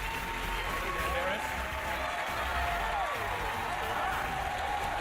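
A game show studio audience cheers and applauds steadily through the whole stretch, a dense wash of clapping with a few whoops, while a host's voice is heard over it.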